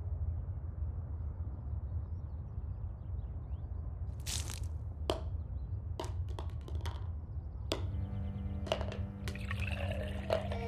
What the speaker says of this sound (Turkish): Hozir men sizga issiq choy damlab beraman.